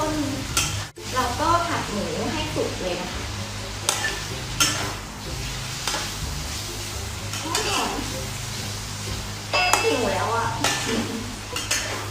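Pork sizzling steadily in a hot pan as its fat renders for kimchi fried rice, a dense continuous crackle with occasional stirring scrapes and clinks of a utensil, close and fairly loud, with faint voice-like sounds in the background.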